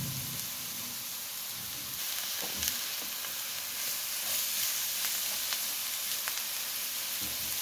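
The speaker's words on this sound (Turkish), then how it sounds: "Tavaya yarım fincan sıvı yağ ekliyorum. Lahanalarımızı ekliyorum." Cabbage frying in oil in a pan gives a steady close sizzle with crackling pops over a constant hiss, and no one speaks.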